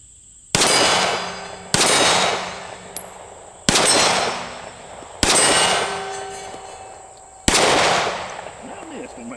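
A Keltec P15 pistol fires five shots at a 12-inch steel plate, each sharp crack followed by a bright metallic ring that fades, spaced roughly one to two seconds apart.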